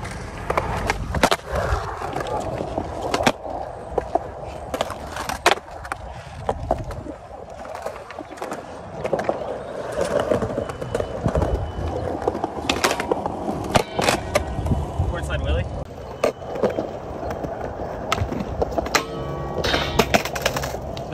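A skateboard rolling back and forth, a continuous rumbling roll with repeated sharp clacks and knocks of the wheels and board, close and fairly loud throughout.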